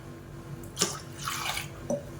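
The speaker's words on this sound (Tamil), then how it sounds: "இப்போ தேவையான அளவுக்கு தண்ணி சேர்த்துக்கலாம்" Water poured into a tamarind mixture for a Tamil fish curry, heard as a few brief splashing, dripping bursts spread across a quiet background.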